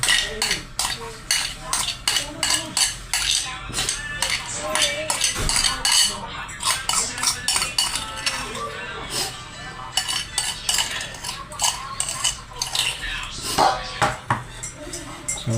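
Dinakdakan mixture of pork and goat is stirred in a bowl, with a utensil clinking and scraping against the sides in quick, repeated strokes throughout, fairly close and under occasional speech.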